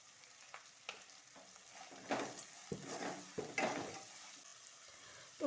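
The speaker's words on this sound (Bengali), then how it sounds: "পেঁয়াজটা দেখো আমি হালকা ভেজে নিয়েছি, পেঁয়াজের কাঁচা গন্ধটা চলে গেছে" Onions salted and frying in a pan sizzle softly under scattered stirring scrapes and spoon taps against the pan, close and fairly quiet, without speech.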